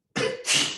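A single loud, close sneeze bursts out in two quick parts, a sharp intake-like onset followed by a brighter explosive release, lasting under a second in an otherwise quiet indoor class setting.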